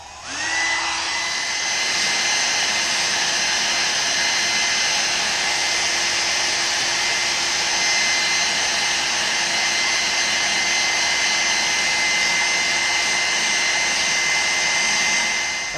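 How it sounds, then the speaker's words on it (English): A hair dryer runs continuously at close range, blowing hot air over a Toyota Tacoma's decal to soften the adhesive, with a steady whining roar and no talking for about sixteen seconds. "we're just going to warm all this up to loosen up the adhesive and then start peeling it away"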